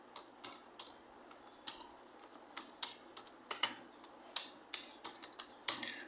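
Search query typed on a computer keyboard, a quick run of light clicky keystrokes in uneven bursts with short pauses, close and fairly quiet, no voices.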